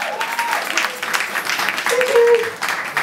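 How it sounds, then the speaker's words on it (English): Audience applause at an evening gala, broadband clapping spread across the room with scattered voices and a brief whistle-like tone mixed in, steady and moderately loud. "give yourselves a round of applause"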